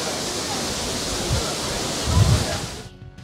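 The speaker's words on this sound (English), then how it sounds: "A waterfall." Waterfall near a stairway and lift on Weston-Super-Mare beach gives a steady broadband rushing roar, fairly close, that cuts off abruptly near the end.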